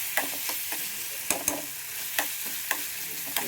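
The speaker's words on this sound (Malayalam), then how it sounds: "കറിവേപ്പിലയും കൂടി ഇട്ട് നന്നായിട്ടൊന്ന് വഴറ്റിയെടുക്കണം." Curry leaves sauté in a pan for a quick egg curry, giving a steady close sizzle with repeated sharp scrapes and taps of a spoon stirring, and no talk.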